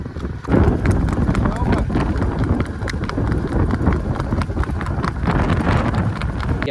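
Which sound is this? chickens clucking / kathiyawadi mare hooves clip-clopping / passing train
kathiyawadi mare hooves clip-clopping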